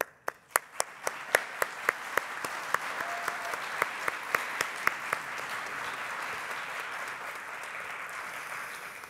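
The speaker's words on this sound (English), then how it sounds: "Applause." An audience at a geography society symposium award ceremony breaks into sustained applause, a steady wash of clapping with a few sharp, distinct claps standing out near the front.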